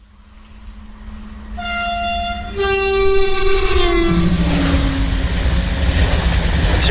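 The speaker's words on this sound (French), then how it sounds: "On va entendre des différents sifflements de train, des sifflets de train à travers le monde entier." A Eurostar train sounds its whistle loudly and up close: sustained tonal horn blasts that rise in pitch and then slide down into a second note over a rumbling rail background.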